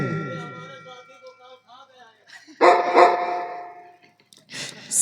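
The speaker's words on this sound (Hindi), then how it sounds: "वो कुत्ता बंधा हुआ है।" A dog in a nautanki stage show barks in two loud, close bursts and then once more at the end, following a stretch of spoken and sung voice.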